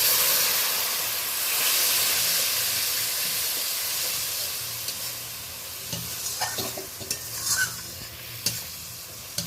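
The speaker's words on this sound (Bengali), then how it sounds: "এবার আমি অল্প জল দিয়ে দেব।" Steady loud sizzling and hissing of a spice paste frying in oil after a little water is added, with scraping and stirring clatter from a spatula growing more frequent toward the end.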